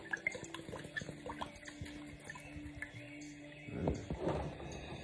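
Liquid for homemade soap is poured into a bowl, a faint close trickle and drip with a short fuller splash near the end.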